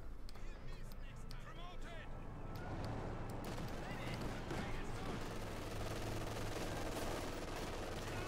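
Machine gun suppressing fire in the WWII strategy game Company of Heroes, a dense, continuous rattle of gunfire with other battle noise, running under commentator talk throughout.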